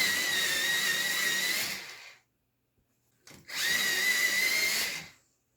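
Pencil sharpener grinding down a new Arteza pencil, two steady whirring bursts of about two seconds each separated by a short pause, close and fairly loud with no talking.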